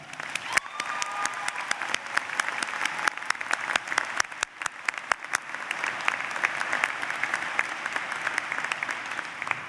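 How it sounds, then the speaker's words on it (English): A university audience applauds at a graduation ceremony, many hands clapping in a dense, sustained roar with sharp individual claps standing out near the front. "Let's give them a round of applause."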